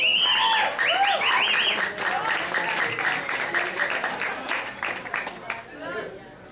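Audience applause at a Jazz House Collective concert at La Brújula, a sustained burst of clapping with scattered whoops that gradually thins out, with voices calling over it.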